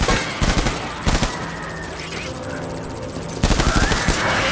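Gunfire in the video game Death Stranding: several sharp bursts of shots, loud and close, cluster at the start and again near the end, with a steady low hum of the game's ambience in between.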